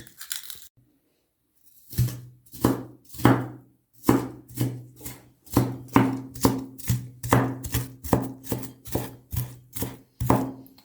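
A knife chops onion on a cutting board for a Turkish stuffed onion dish, a steady run of crisp, close thuds that speeds up after a brief pause.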